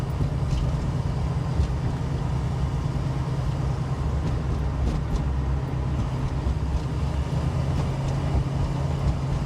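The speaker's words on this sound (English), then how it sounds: "I love the engine sound on this thing." Engine of a 1965 Mustang Fastback restomod heard from inside while driving, a steady low droning rumble with constant road noise, fairly loud and unbroken throughout.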